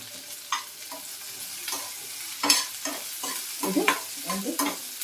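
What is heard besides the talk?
onion frying in pan with salt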